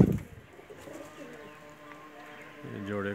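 Soft cooing from a Bateray pigeon and a blue Kamgar female in short low throaty bursts, a louder coo near the end, with faint background noise.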